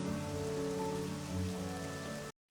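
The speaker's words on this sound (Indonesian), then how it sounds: "Hye Jong hanya bisa melihat tempat itu, di bawah payungnya yang terkena hujan" Steady rain patters and hisses on an umbrella in a film scene, a dense, continuous wash of drops close by that cuts off abruptly at the end.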